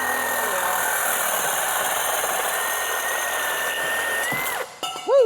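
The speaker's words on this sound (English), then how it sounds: "With everything marked off, it is Sawzall time." A Sawzall reciprocating saw cuts through a crusty but solid car exhaust pipe on a Pontiac Firebird, a steady loud buzzing whine that holds for several seconds before the blade breaks through and winds down.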